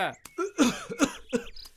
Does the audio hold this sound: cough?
yes